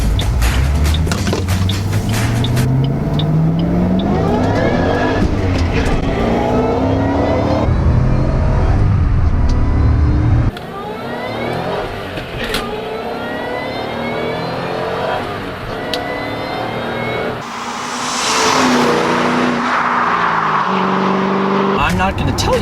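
A 2008 Ford Mustang Shelby GT500 accelerates hard, its engine revving and climbing through gears with a loud, rising roar, heard from inside the car with someone talking over it.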